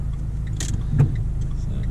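A car pulls away on a hill start during a driving test on a route near Islip, Oxford, its engine a steady low hum from inside the cabin that swells slightly as power is added.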